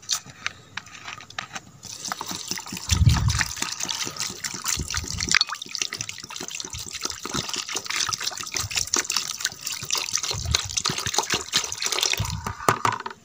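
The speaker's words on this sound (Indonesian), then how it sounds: "ini adalah air jagaba yang telah kita ambil tadi seukuran satu liter ini kita curahkan dalam ember ini" About a liter of liquid for an organic pesticide gushes and splashes steadily into a bucket, close and continuous, with a few thumps as the stream shifts.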